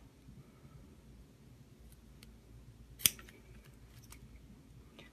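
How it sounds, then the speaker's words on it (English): A single crisp snip of scissors cutting through vinyl, quiet room otherwise, with faint rustling around it. "just rotate your vinyl through the jaws of your scissor"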